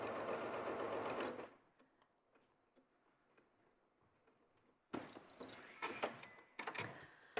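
A sewing machine fitted with a walking foot quilts through layered fabric, running in a fast steady whir for over a second, then falling quiet before a burst of short, uneven stitching bursts at a slower pace.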